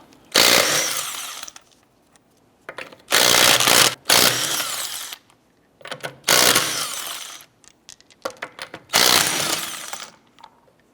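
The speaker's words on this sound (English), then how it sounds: "19mm socket, let's go ahead and remove our lug nuts." A power tool fitted with a 19mm socket spins off lug nuts on an Acura TL wheel, giving loud separate bursts of rattling, whirring impact noise with brief quiet gaps between each nut, close up.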